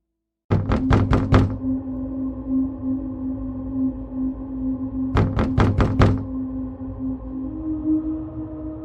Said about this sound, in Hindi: दरवाजे पर दस्तक होती है।